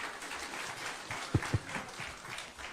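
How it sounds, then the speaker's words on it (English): Audience applause for the principals at the Kenya Kwanza–ODM Framework Agreement event at KICC, a steady wash of clapping with a few sharper claps standing out, moderately faint and without speech. "Another round of applause for the principals"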